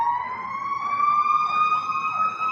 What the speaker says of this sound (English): That's ambulance, God.